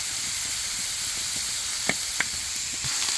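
Shrimp with garlic butter sizzle on a Blackstone griddle, a loud steady hiss with a few sharp pops and crackles, close up and with no talking.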